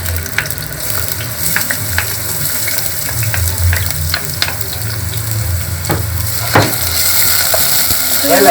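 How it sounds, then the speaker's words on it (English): Onion fries in about three tablespoons of oil in a pan for a homemade chicken tikka pizza, giving a steady close sizzle with scattered clicks and scrapes of stirring. "Then we'll fry our onion."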